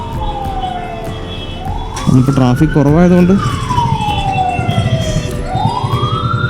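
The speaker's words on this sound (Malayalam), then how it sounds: "എവിടെ നിന്ന് ഒരു ആംബുലൻസിൻ്റെ സൗണ്ട് കേൾക്കുന്നുണ്ട്." An ambulance siren wails through evening Bangalore traffic, its rising and falling tone sweeping loudly from behind a motorcycle. An engine rumbles underneath, and someone talks over it briefly.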